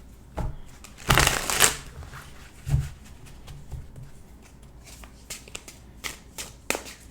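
Tarot cards being shuffled up close, with a loud riffle burst early on followed by softer scattered flicks and slides of the deck, quiet and without talk.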